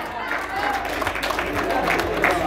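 Crowd applause for riders finishing a 100-kilometre endurance horse race at an awards ceremony, a dense, steady patter of clapping throughout, close.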